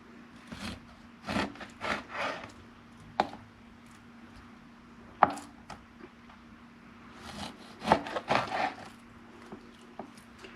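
A knife slices London broil beef into jerky strips with soft, scattered cuts and board taps in irregular clusters, quiet and close over a faint steady hum.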